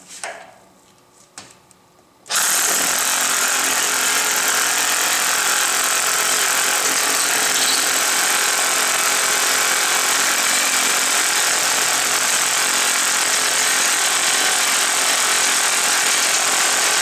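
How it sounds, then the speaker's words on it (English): A loud, steady drilling roar into concrete for lift anchor holes starts after a couple of seconds of quiet handling noises and continues without pause, harsh and close. "now we're going to drill for the concrete anchors"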